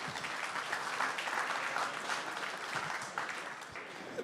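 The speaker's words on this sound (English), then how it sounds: "give yourself a round of applause" A crowd at the Bitcoin Treasuries NYC Unconference breaks into sustained, full applause that holds evenly from start to finish without a clear break.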